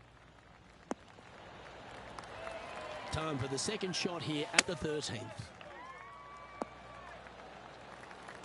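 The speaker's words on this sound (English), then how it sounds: "Oh, golf clap." A soft golf-crowd clap swells and fades in a golf video game at the 13th hole, heard faintly under a commentator's talk along with a few sharp knocks.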